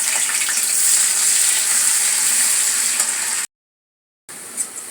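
Chopped onion frying in oil with whole dried red chilies gives a loud, even, hissing sizzle close up. It breaks off into a brief silence, then resumes more softly with a few faint knocks.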